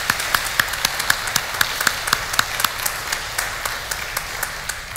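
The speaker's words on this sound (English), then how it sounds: "let's have a wonderful round of applause for Daniel and all that he's done" A church congregation clapping during Holy Mass, a steady round of applause with distinct individual claps rising above a dense wash of hands, sustained and moderately loud throughout.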